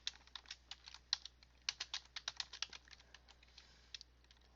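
Quick bursts of clicky typing on a keyboard while writing a message, irregular keystrokes in short runs, close and crisp over a faint steady hum.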